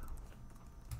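Quiet keystrokes tapped out on a computer keyboard in short, soft, even clicks, with no other sound around them.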